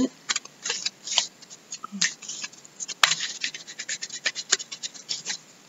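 Tarot cards shuffled quickly by hand in a cramped space, a rapid run of papery riffles and scratchy slides, close and fairly loud, with brief pauses between bursts.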